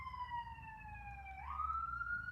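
Ambulance siren wailing past on a street, a steady two-tone wail whose pitch drops and then climbs again as the vehicle goes by, with low traffic rumble underneath.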